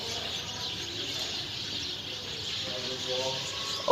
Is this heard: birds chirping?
yes